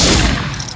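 A single sharp gunshot bursts out in a video game, loud and close, then decays quickly into a short rumbling tail.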